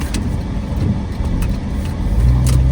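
A car driving through city traffic on the way to a butcher's shop, a steady close rumble of engine and road noise with passing vehicles and a deeper engine swell near the end, no voices.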